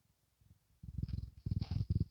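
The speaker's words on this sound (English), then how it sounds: "I've never been able to get audio of Ember's purr before, the little noises that she makes" A pet cat purrs very close to the microphone. A soft rumble starts faint, then swells into steady rhythmic pulses for the rest of the moment.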